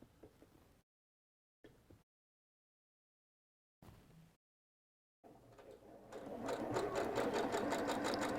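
A domestic sewing machine starts up after short bursts and silent gaps, then runs with a rapid, steady mechanical whirr and needle rattle, close and fairly loud. The machine is struggling, with thread catching on the bobbin.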